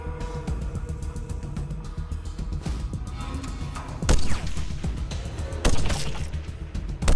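Gunfire and impact crashes from the Wasteland 2 Director's Cut video game, with sharp loud bursts near 4 and 5.7 seconds over a constant busy background of game noise.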